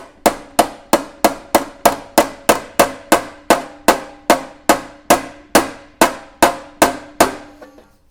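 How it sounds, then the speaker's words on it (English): A steady series of sharp metallic taps, about two per second, close and ringing, as a small hammer strikes the back end of a dent repair pick on a metal panel. "you're just doing the hammering with your hand on the back end"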